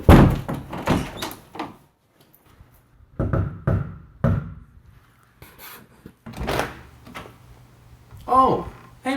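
Knocking and clattering door sounds mixed with voices talking, several sharp bumps and thuds spread across the moment.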